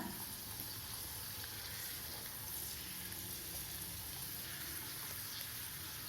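Raisins frying in ghee on a stovetop for sweet pongal, giving a steady, dense sizzle that holds evenly throughout with no speech.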